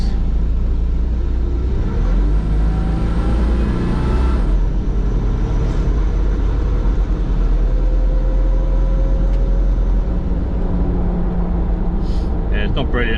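Engine of an 80 Series Land Cruiser on a test drive, a loud continuous low rumble with road noise inside the cabin, and a person talking over it.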